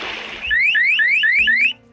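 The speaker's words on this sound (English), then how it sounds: "There's this bracelet by Safety Turtle, and it will sound an alarm the second your kid hits the water." A Safety Turtle pool safety bracelet alarm sounds after a splash, giving a loud, close series of five rapid rising electronic chirps that then abruptly stop.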